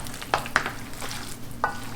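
Floured spareribs browning in a pan for sweet and sour spareribs: a low, steady sizzle of frying meat with a few sharp scrapes and clicks of stirring, close and alone without talk.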